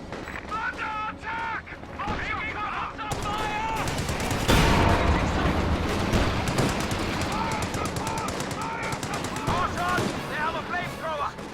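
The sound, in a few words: support gun firing in a video game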